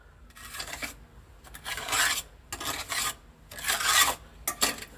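A trowel rasps and scrapes across wet plaster, smoothing and levelling a wall render to close its pores against damp, in several firm strokes of about half a second to a second each, close and fairly loud with no talking.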